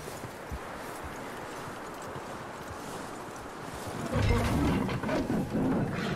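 Horse hooves clop along at a walking pace amid wind noise in Red Dead Redemption 2, growing louder and busier toward the end.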